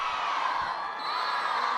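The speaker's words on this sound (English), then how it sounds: "The crowd count down the clock." Hockey stadium crowd counting down the clock before a women's Champions Trophy match between England and Argentina in Argentina, a sustained roar of many voices with cheering and shouts, loud and continuous.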